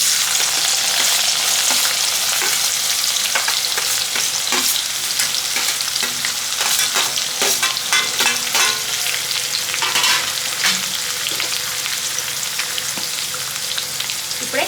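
Onions, green chillies and curry leaves frying in oil over chana dal and tempering for a ridge gourd and egg curry, a loud, dense, constant crackling sizzle with frequent spatter pops, close up and uninterrupted.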